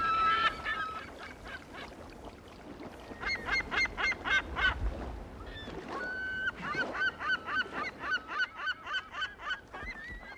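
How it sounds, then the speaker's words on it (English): California gulls calling over the islands of Yellowstone Lake, a run of repeated honking, yelping cries that speed into a rhythmic series near the end, fairly faint and at a moderate distance, with no voices. "the California gulls"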